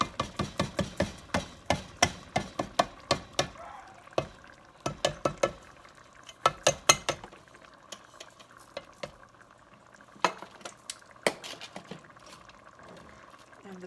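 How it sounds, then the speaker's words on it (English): Canned beans are scraped and plopped into a pot of chili. Quick bursts of wet clunks and scrapes come in clusters, loud and close, with quieter gaps between them. "So I'm going to add all of that can of beans."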